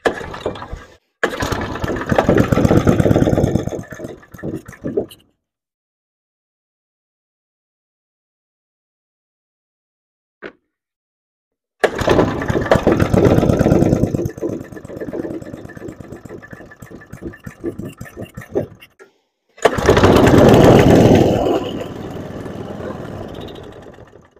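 A small go-kart engine sputters to life on gas poured straight into the carburetor, running loud and rough in two bursts of a few seconds each with a long silence between, then revving again before cutting off.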